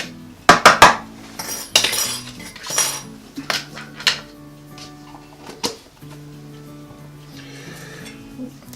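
Dry banana bread ingredients with baking soda being whisked in a bowl, close metallic clinks and scrapes against the bowl in irregular bursts, busier at first and then sparser, over a faint low hum.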